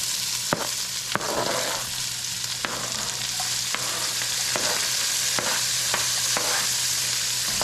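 White onions fry in a pot for a potato stew curry, giving a steady, nearby sizzle punctuated every second or so by sharp knocks of a stirring spoon.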